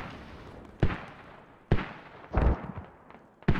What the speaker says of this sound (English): Spit's mortars have not stopped shooting this entire round